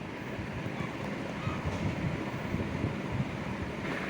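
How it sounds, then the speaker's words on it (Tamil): Water poured from a tumbler into a cooking pot for buttermilk curry with mango and turmeric, a steady broad splashing rush running close and fairly loud throughout without pause. "இப்போ ரெண்டு டம்ளர் தண்ணி ஊற்றிக்கலாம்"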